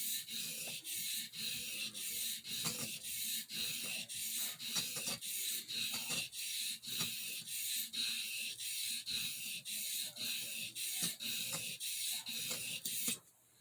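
A swayback whittler knife blade is run straight up and down a Dan's Washita sharpening stone in a steady series of soft, rhythmic scraping strokes, close and fairly quiet.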